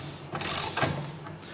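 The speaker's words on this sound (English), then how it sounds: "I'm going to lower the bike a little on the scissor stand" A scissor stand under a Harley-Davidson 2022 CVO motorcycle is adjusted to lower it, giving a brief ratcheting mechanical clatter and a couple of short metallic clicks, close by and fairly quiet.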